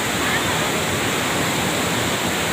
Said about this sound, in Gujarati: ધીમે ધીમે ગામ લોકો આ ધોધ જોવા માટે અને અહીંયા નાહવા માટે આવી રહ્યા છે